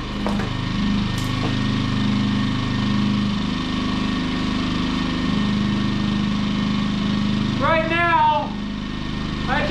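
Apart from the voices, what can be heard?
Champion 2000 watt inverter generator running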